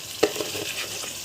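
Washed, soaked lentils and rice being turned together in a pot for Egyptian koshari, heard as a brief close stirring scrape over a soft sizzle.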